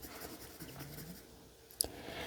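Colored pencil strokes scratching softly across paper, close and faint, with a brief sharper tap near the end and no talking.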